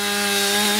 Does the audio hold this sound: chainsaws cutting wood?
yes